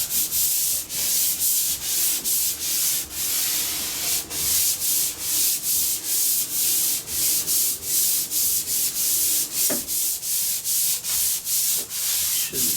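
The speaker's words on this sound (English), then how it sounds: "This just gets a light, very light sanding." Rhythmic back-and-forth strokes of fine sandpaper on a stained and sealed wood countertop rasp steadily at close range, a brisk even scrubbing with brief pauses between passes.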